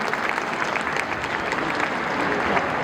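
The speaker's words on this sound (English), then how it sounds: "So please give a round of applause to the team here." Steady applause from parents and children at a school science exhibition, a dense even patter of many hands sustained without pause and with no talking.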